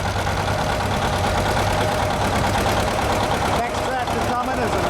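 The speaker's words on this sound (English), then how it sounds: "1959 John Deere 730 diesel, owned by Les Kleckner." A 1959 John Deere 730 diesel tractor idles steadily and close at an antique tractor and plow parade, its low engine drone continuous throughout.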